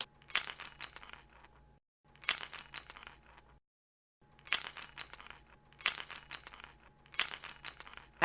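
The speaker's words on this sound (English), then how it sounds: "This is the sound of keys jingling." A set of keys jingling in five separate bursts of bright metallic clinking, each lasting about a second and split by short silences, close and clear with no voices.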